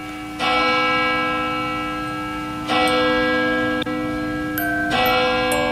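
A church bell tolls in a radio drama scene, three slow, ringing strikes with long humming decay, clear and alone with no voices.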